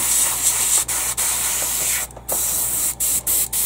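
Steady airbrush spray of AK Real Colors thinner hissing loudly and continuously, broken by a few brief interruptions near the end.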